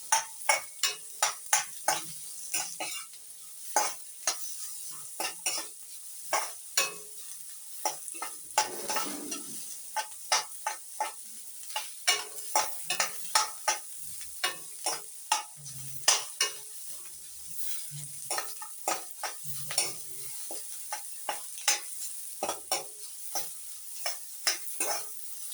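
Onions for a mushroom curry sautéing in a pan, a steady frying sizzle broken by frequent sharp scrapes and clacks of a spoon stirring against the metal, close and fairly loud with no talking.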